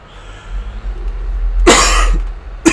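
A person coughs sharply twice outdoors on a farm, one heavy cough followed by a shorter one, close to the microphone over a low rumbling background.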